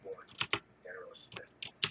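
Laptop keys are tapped in a few sharp, sparse clicks, close and fairly quiet, with faint voice-like sounds between the taps.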